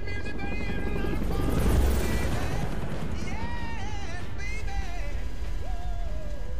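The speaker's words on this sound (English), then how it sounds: "We're in a helicopter." A helicopter flies in Saints Row 4, its steady rotor drone loud and continuous throughout, with gunfire-like bursts and whistling game effects mixed in.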